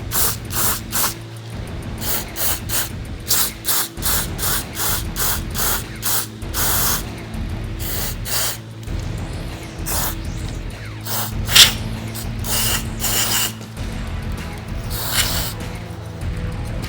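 Mass airflow sensor cleaner sprays onto the sensor's small wires in repeated short aerosol bursts, hissing in a rapid on-off rhythm over a low mechanical hum with clicks.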